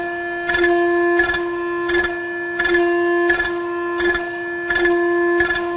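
Servo motor oscillating during Sigma-5 advanced auto-tuning: a steady tonal hum with regular pulsed buzzing bursts about every two-thirds of a second, repeating rhythmically throughout, close and clear, no talking.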